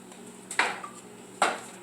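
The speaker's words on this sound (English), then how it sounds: "Give it a nice good stir. Let all the everything blend together." Sausage sauce for lasagna with fresh basil is stirred in a pot, two distinct clinks of a spoon against the pot a second apart, close and fairly quiet with no talking.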